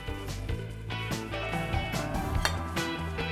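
Hard ceramic knocks and clinks ring out several times, close by, as plates and dishes are set down and shifted in a kitchen, with a faint ringing tone between.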